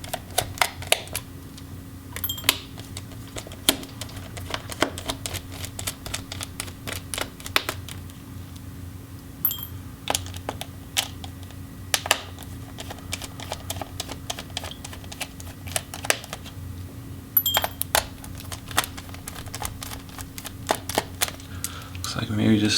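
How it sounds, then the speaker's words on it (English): Small screws being loosened and removed from the battery of an Alienware M15 R1 gaming laptop during disassembly, a scatter of light, close clicks and ticks over a faint steady hum. "And then we can remove those battery screws."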